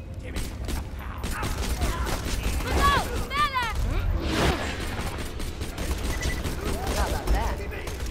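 Scattered pistol shots pop amid clanking and whooshing effects in a frantic Borderlands 2 fight, with someone talking over the action.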